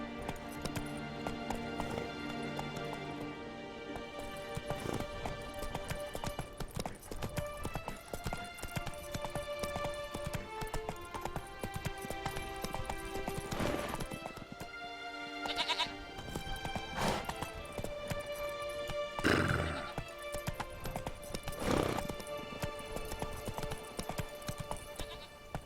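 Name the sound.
horse Roach galloping, clip-clop, Witcher 3 video game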